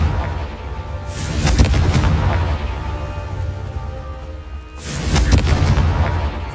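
A Confringo blasting spell in Hogwarts Legacy erupts twice, each a loud, booming fiery explosion with a sharp crack and rumbling tail, the second arriving about four seconds after the first over a steady low game ambience.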